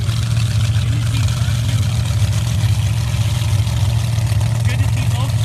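Dragster and Jeep engines idle steadily with a low, continuous rumble at the start line of sand drag races, loud and unbroken, with a commentator talking over them.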